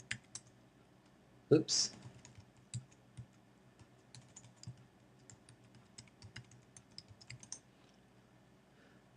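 Typing a username and password on a computer keyboard, a loud burst of clicks early on followed by scattered, quieter keystrokes, with a brief spoken exclamation.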